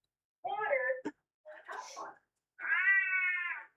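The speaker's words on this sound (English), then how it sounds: "She just sounds like a mad cat." A cat lets out loud, harsh, angry-sounding meows, three drawn-out yowls separated by short pauses, the last one long and steady, with no other sound.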